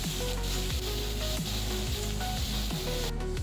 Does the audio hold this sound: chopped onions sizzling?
yes